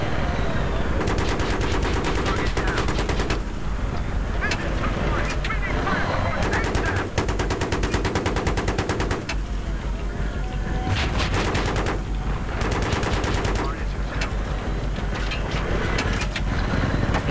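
Sustained automatic gunfire in the co-op mode of Battlefield 3, with rapid rattling bursts repeating for many seconds and brief gaps between them, loud and close, with a low ambient rumble underneath.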